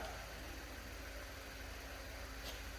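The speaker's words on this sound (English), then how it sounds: "There's a car ticking over just in the corner." A nearby car engine ticks over with a faint, steady low rumble and a soft rhythmic pulse that continues unchanged throughout.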